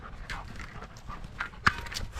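A dog pants in quick, breathy bursts close by, with a few light scuffing footsteps and a brief sharp knock near the end.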